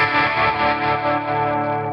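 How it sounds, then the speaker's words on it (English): A short, steady electric guitar chord shimmering through the chorus and tremolo of a NUX Cerberus pedal, loud and sustained with a gentle wavering pulse and no voices. "Again, I have a chorus and tremolo."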